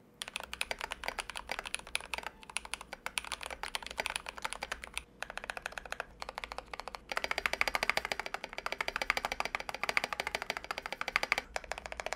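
Rapid, continuous close-up typing on a modded GMMK Pro mechanical keyboard with triple gaskets, a polycarbonate plate, lubed C3 stabilizers, Holee and Epsi mods, Krytox 205g0 lube and a Geek Arc accent spacebar. Crisp, even keystrokes grow denser and louder in the second half.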